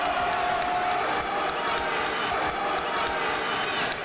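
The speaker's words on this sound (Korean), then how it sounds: "대한민국의 공격마다 프랑스 홈관중들의 야유가 쏟아졌지만" A French home crowd at an Olympic fencing semifinal against South Korea keeps up a loud, continuous roar of jeering and noise, filling the arena, with repeated faint sharp clicks and a broadcast voice underneath.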